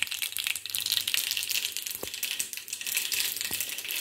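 Mustard seeds crackling and spluttering in hot oil, a dense continuous sizzle with a couple of sharper pops, close and fairly loud, no talking.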